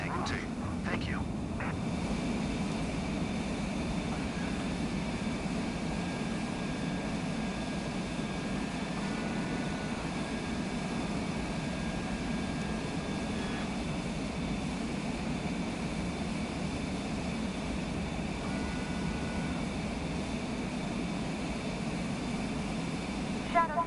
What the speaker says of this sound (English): B1, prepare for takeoff.